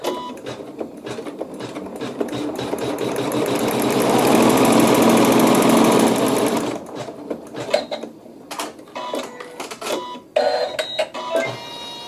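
A sewing machine stitching a quilt seam, a fast buzzing run that swells and holds for several seconds, then stops, followed by fabric handling and small clicks, close by with no talk.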